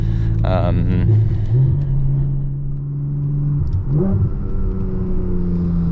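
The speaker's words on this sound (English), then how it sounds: "Engine is already warm, so we can open her up a little bit later on." A warm 2022 Porsche Boxster GTS 4.0 engine rumbles steadily and close, with a low drone that swells slightly, while a person talks over it.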